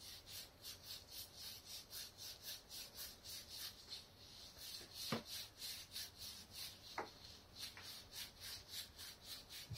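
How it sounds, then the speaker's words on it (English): Emery cloth rubs back and forth over a rear brake part from a TNT 125 motorcycle. The strokes are quiet, steady and rhythmic, with a couple of faint knocks partway through. "Emery cloth. Scotch Bright, whatever you want to call it. Bit of elbow grease."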